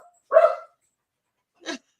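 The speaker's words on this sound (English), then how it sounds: "this is only one that barks. Believe it or not, that's one dog" A mini Australian Shepherd gives one loud, close bark, then a short, fainter yip about a second later, with silence between.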